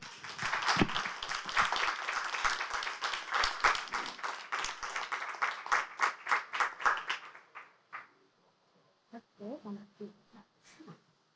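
An audience at a literary talk during a book fair claps in a fairly loud burst that thins into scattered, separate claps and fades out, with faint voices near the end.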